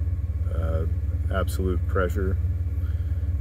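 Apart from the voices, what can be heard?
1991 Ford F150 4.9L engine idling around 700 RPM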